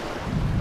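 Breeze blowing along the Lake Superior shoreline at Pictured Rocks National Lakeshore, a brief steady rush of wind buffeting the microphone, loud and close, with no voices.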